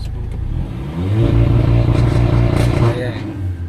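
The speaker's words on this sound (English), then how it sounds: "You can hear the turbo spool." Mercedes-AMG GLA 45 Edition 1 accelerating, the engine note rising with turbo spool as revs climb over a few seconds, loud and close, with people talking over it.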